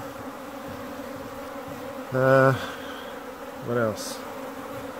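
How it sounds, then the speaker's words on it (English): Honey bees buzz steadily around a single backyard hive in September on Newfoundland, a dense close hum with two louder passes as bees fly near, and a brief voice speaks over it. "Extremely busy bees."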